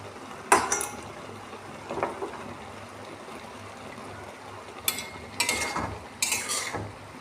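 Raw onions tipped into a simmering prawn and taro stolon curry and stirred, giving a soft sizzle with a few sharp utensil scrapes and clatters near the start and toward the end, with no talking.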